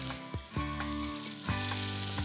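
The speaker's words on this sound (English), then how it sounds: "I hear sizzle." Panko-coated chicken cutlets sizzle in hot canola oil in a pan on medium-high heat, a brief, close crackling fry that rises and falls across a couple of seconds.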